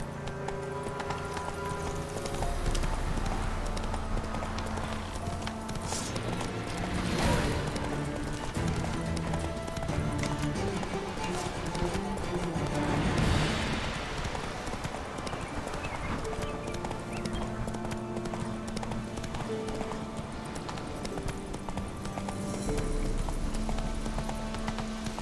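A horse gallops in the video game Witcher 3, with steady, rhythmic hoofbeats running for a long stretch, surging louder at moments, and a rider's voice heard briefly.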